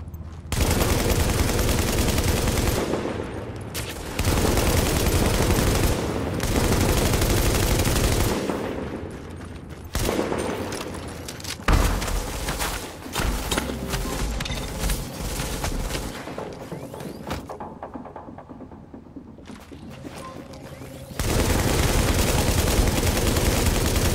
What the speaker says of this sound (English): I'm going to show off the LMG, and I'm going to show you that how fast it can actually